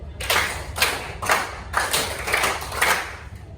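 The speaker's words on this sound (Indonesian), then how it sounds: "Tepuk tangan 3 2 kali." A class claps hands in a rhythmic pattern, sharp close bursts grouped in repeating sets of quick claps separated by short pauses.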